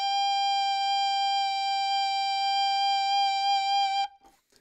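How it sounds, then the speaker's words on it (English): An alto saxophone sustains a single high E, a steady, bright, reedy tone with rich overtones held for about four seconds close up before cutting off, followed by faint noise. "So the high E sounds like this."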